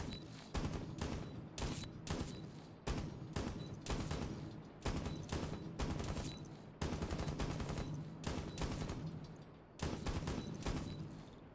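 Repeated bursts of automatic fire from a high-recoil gun in Rainbow Six Siege, loud and close. Sustained volleys of about a second each are separated by brief pauses, with no voices.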